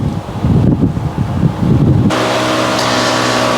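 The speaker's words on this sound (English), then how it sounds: "It's so windy." Strong spring wind blows outdoors near a horse paddock, gusting hard against the microphone for two seconds before settling into a steady, loud rush.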